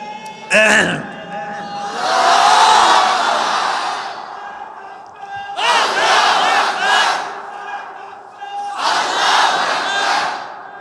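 At a Bangla religious gathering, someone shouts takbir and a large crowd roars back, with three swelling waves of massed chanting, loud and close, each fading before the next call.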